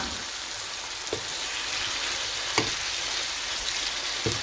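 Fried eggplant sizzles steadily in a pan over onions browned in oil, with a few soft scraping stirs of a spatula spaced through the continuous frying hiss; no voices.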